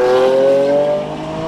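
A Lamborghini Aventador Roadster engine revs hard near the top of its range, a loud rising howl held for about a second before easing slightly, close and without talk.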